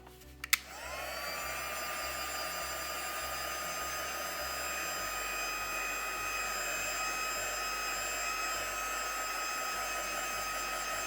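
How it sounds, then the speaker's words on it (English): Heat gun switched on with a click to dry craft card before embossing, then a steady close whooshing electric blower whine with a high motor hum, constant and loud for about ten seconds, no talking. "So I'm going to use my heat gun and make sure that's quite dry."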